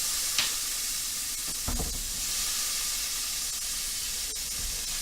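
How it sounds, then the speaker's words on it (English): Chopped vegetables land in a hot pan of oil for a mock lobster linguine, giving a steady, close hiss of frying that runs the whole time, with a few soft stirring clatters. "Listen to the sizzle."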